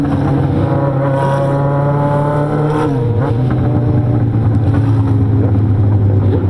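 Motorcycles ridden at night through city traffic on a cold evening, engines droning steadily and loud with a drop in pitch and rise again as the riders shift and accelerate, no talking over it.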